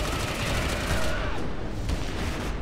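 Dense, continuous gunfire from the video game Clive Barker's Jericho, a steady roaring fusillade with no gaps, loud and close throughout.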